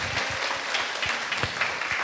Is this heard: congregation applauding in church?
yes